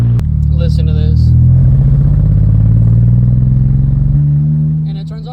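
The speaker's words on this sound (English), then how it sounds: "It's misfiring so bad. It ain't like that. Oh gosh, it sounds so bad." A BMW E39 engine idles rough and misfiring, a loud, uneven low rumble that lurches and wavers steadily before settling, with a person talking briefly near the start and end.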